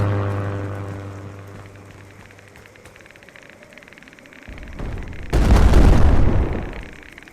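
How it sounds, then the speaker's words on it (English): Bombing explosions in the video game MISERY: a low rumbling boom fades out, then a sudden loud crackling blast erupts near the end, with no talk over it. "You're already bombing me?"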